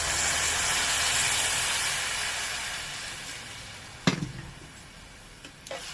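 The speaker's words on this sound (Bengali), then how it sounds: "এবার দিয়ে দেবো জল।" Water poured into a hot pan of lychee and raisin chutney sets off a loud, broad steam hiss that slowly fades over about four seconds, followed by a sharp utensil knock and softer clatter.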